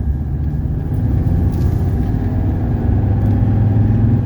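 A 1982 Mercedes 300SD diesel accelerates gently on light throttle, its steady low engine rumble droning evenly from inside the car throughout.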